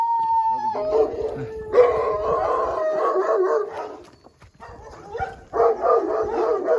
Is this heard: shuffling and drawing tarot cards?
no